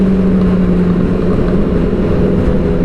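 Honda CB motorcycle engine idling close by, a loud steady low rumble with an even pulsing throb that runs the whole time without a break.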